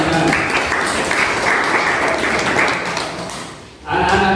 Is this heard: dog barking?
no